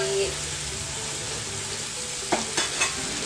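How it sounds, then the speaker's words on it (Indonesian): Steady frying sizzle fills the clip as green beans are sautéed in a pan for an omelette, with a few sharp scrapes and clanks of a utensil stirring food near the end. "kita tumis dulu ya"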